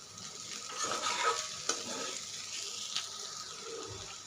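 Egg bhurji sautéed and stirred in a pan, a soft sizzle under light scraping strokes with a couple of sharper taps, fairly quiet and close, no talk.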